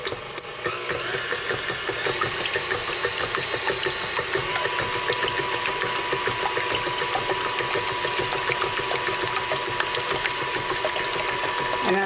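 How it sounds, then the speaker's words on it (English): Three eggs are beaten briefly in a bowl for pumpkin bread, a fast, steady whirring with rapid rhythmic ticking throughout and no talking. "we're going to beat 3 eggs just a little bit"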